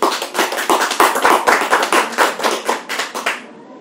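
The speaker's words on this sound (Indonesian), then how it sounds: "Beri tepuk tangan." Applause breaks out from a studio audience as a talk show host introduces the program, a dense run of handclaps that rises to a steady clatter, then thins and fades out toward the end.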